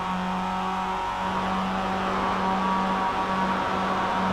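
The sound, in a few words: Mazda race car engine through corner, iRacing video game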